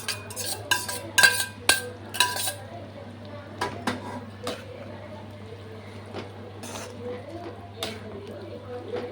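A spoon stirs fried bitter gourd into a simmering thokku gravy in a pan, giving a few sharp clinks and scrapes at the start and then softer intermittent scraping, with a steady hum underneath.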